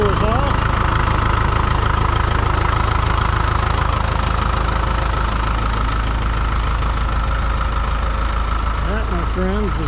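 A Farmall MD tractor's diesel engine runs loud and steady at idle, with a continuous low rumbling knock throughout and a voice briefly heard near the end.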